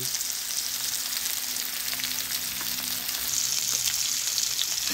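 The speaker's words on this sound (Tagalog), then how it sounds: "atin na siyang iniihaw sa ating kalan with a broiling pan" Pork belly sizzles in a broiling pan on a stovetop, a dense, continuous crackling fry that stays loud and steady throughout with no voices.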